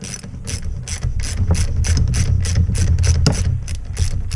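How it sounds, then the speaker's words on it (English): A 17mm wrench clicks rhythmically as it loosens the fork dust cap on a Honda CRF150R motorcycle's front suspension, giving about a dozen evenly spaced, close, loud ratchet clicks under a low mechanical rumble. "we're going to take a, what do we got, 17mm wrench and loosen up that dust cap"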